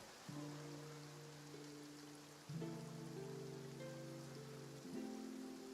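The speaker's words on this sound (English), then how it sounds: "Starting to rain." Rain falls in Genshin Impact as a steady, faint hiss of drops on surfaces, running beneath sustained musical chords that change every few seconds.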